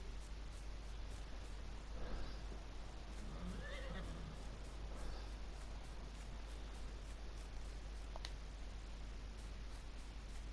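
Horses whinny faintly in a Farming Simulator 19 farm map, a few soft neighs rising over a steady static-like hiss of game ambience.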